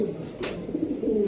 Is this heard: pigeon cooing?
yes